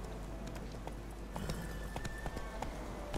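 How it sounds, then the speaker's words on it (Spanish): Horse hooves trot at a steady clip-clop in The Witcher 3, each hoofbeat distinct and evenly spaced over a busy game soundscape with a faint tonal layer. "todos los caballos que tiene Geralt les llama Sardinilla"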